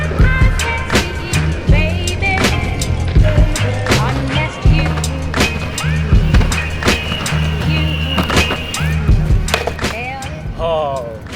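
A Boosted electric skateboard rolls fast over pavement, with a loud, close wheel roar, repeated clacks and thumps from cracks and bumps, and a rising electric motor whine, while a rider talks excitedly over it.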